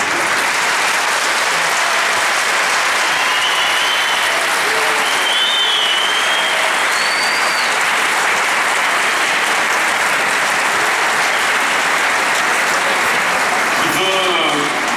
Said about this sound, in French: nous pouvons fortement les applaudir